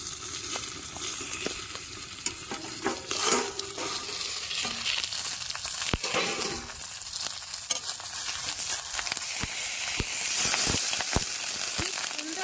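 Eggs frying on a banana leaf beneath an overturned plate in a village cooking setting, giving a steady close sizzle and hiss with scattered clicks and scraping stirs throughout.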